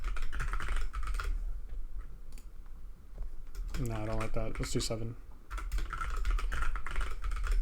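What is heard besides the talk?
fast typing on a computer keyboard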